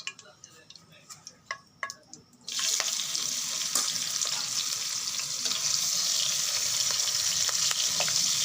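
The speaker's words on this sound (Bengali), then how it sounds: "তেল গরম হয়ে গেছে, এখন মাছ ছেড়ে দিব।" Puti fish drop into hot oil and set off a sudden loud, steady sizzle, after a few sharp clinks and taps in a quiet kitchen.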